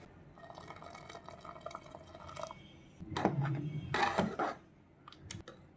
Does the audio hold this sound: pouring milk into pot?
yes